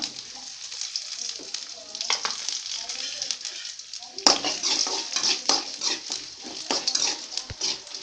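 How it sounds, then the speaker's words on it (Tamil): Chana dal, cumin and dried red chillies crackle and sizzle in hot oil, a dense close frying hiss with scattered spatter pops and a few utensil knocks throughout. "இப்போ எண்ணெய் நல்லா காஞ்சிடுச்சு கடலைப்பருப்பு சீரகம் வரமிளகா"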